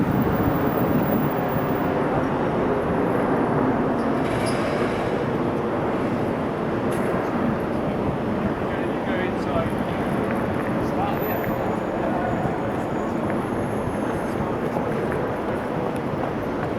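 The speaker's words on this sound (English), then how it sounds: "Why would you build a train station like this?" Interior ambience of St Pancras train station: a continuous, even wash of diffuse rumble and hall reverberation with a soft murmur of distant activity, unchanging throughout.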